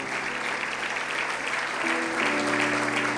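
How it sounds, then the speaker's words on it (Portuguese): A church congregation gives warm applause to first-time visitors. The thick, continuous clapping fills the space while a sustained keyboard-like tone rises underneath toward the end. "Dê um aplauso por essas vidas que estão aqui pela primeira vez."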